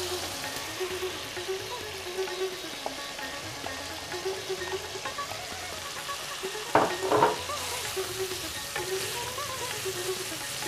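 Mutton hitting a pan of ginger gravy for a white korma, giving a continuous close fry and sizzle with a short burst of louder stirring and scraping midway.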